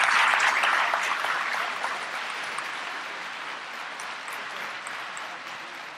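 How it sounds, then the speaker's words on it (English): A school crowd applauds a high school wide receiver receiving an All-American jersey, the clapping loudest at first and then slowly fading to a softer patter. "Let's give Malachi a big round of applause."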